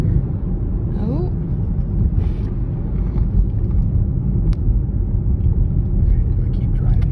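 Steady low rumble inside a car driving along a road, a constant loud drone with road and wind noise filling the whole stretch without letup.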